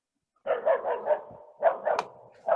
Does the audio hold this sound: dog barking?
yes